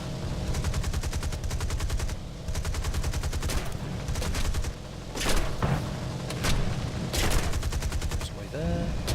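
AI gunners fire aircraft guns in War Thunder: long, loud bursts of rapid machine-gun fire with heavier booming shots mixed in, a steady engine drone underneath and brief pauses between bursts.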